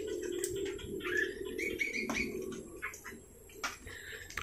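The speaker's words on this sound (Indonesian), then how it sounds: "Yang ini perkutut." Zebra doves (perkutut) in a small aviary give soft, low, repeated coos mixed with faint chirps from other birds, all fairly quiet and distant-sounding.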